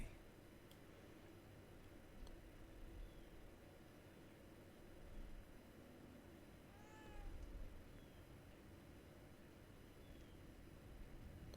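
A cat meows briefly in the horror video game The Evil Within 2: a faint, short cry over a steady hiss of ambient game noise, with a couple of fainter mews around it.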